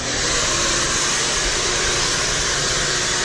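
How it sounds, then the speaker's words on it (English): A vacuum cleaner runs continuously inside a car during interior cleaning, a loud, close, steady roaring whoosh with no pauses. "What we're going to do is basically just start with the vacuuming."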